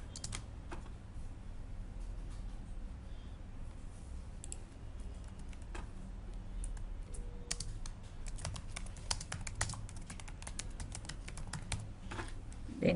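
Steady typing on a computer keyboard fills the whole stretch, a dense run of close, quick key clicks with occasional sharper taps, no voices.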